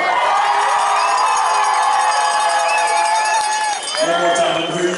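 Crowd at a youth 10U football Super Bowl cheers for the children, a loud sustained mass of shouting, whoops and high children's voices, briefly dipping before a fresh burst of cheering.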